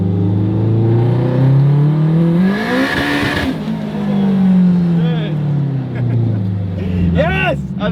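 A Honda Civic Type R race-car build of about 700 hp revs hard in third gear with wheelspin, its engine note climbing and falling in loud, close sweeps, with voices heard over it.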